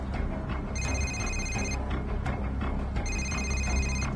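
An incoming call makes a telephone ring in two clear bursts of trilling bells, loud and close, over steady low background rumble with no talk.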